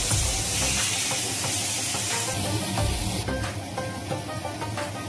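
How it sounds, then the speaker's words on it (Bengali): Thinly sliced, salted bitter gourd hits hot oil and sizzles with a steady, bright hiss that stays constant and fairly close throughout, with a few faint clinks and no talking. "গরম তেলে সেটা দিয়ে দিলাম।"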